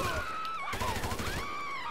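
AK rifle bursts in the game GTA 5: short rapid volleys of shots mixed with whining, tonal game sounds, fairly faint and packed into a couple of seconds.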